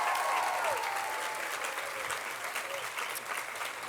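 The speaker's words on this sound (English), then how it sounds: "Can we get a round of applause?" Audience at a women's awards ceremony breaking into applause, a continuous, moderately quiet patter of many hands clapping with a brief whistle at the start.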